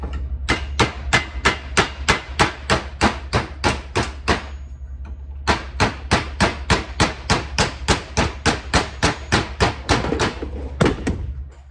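Steady, loud hammer blows strike metal clamped in a vise in a fast even rhythm, pausing briefly before another long run of blows, over a low constant hum; work on a 1966 VW Beetle Convertible front clip.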